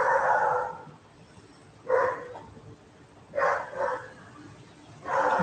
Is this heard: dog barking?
yes